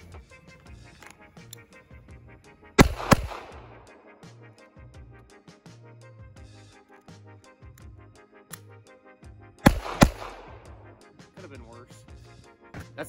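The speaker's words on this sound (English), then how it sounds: "here's gonna be my shitty attempt at a fast reload" Makarov pistol being reloaded quickly, with two sharp metallic clack bursts about seven seconds apart, each a snapping double impact, over a steady low hum and faint handling noise.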